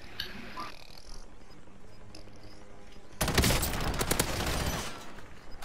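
Sustained automatic gunfire bursts out loudly from Call of Duty on Rebirth Island near the prison, a dense rattling fusillade following a few seconds of quieter distant ambience.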